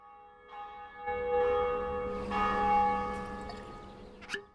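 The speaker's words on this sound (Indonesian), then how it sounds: "suara lonceng juga dapat terdengar di episode 2 ketika Heather mati" A church bell tolls in the anime Sousou no Frieren: rich ringing strikes with long humming decay, building as further strokes layer in, then fading, with no voices.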